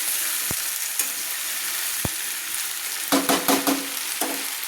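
Chopped spring onion stalks and potatoes fry in oil in a pan with a steady hiss and sizzle, broken by a couple of sharp ladle taps and a burst of scraping stirs near the end, with no voices.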